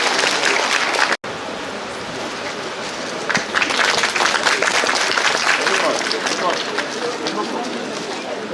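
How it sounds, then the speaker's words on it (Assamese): An audience claps in a hall during a student union felicitation ceremony in Rangia, a dense broadband patter that swells after a brief cut and continues steadily, with a voice mixed in. "আজি এই সভাগৃহত উপস্থিত থকা সকলোকে হাত চাপৰি বজাবলৈ অনুৰোধ জনাইছোঁ"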